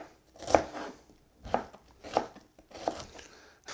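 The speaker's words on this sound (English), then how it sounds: "now we're gonna do what is like a julienne, basically, and just slice it up." Four sharp knife strokes slice lettuce julienne-style on a cutting board, evenly spaced thuds with crisp snaps, close and clear with no talk.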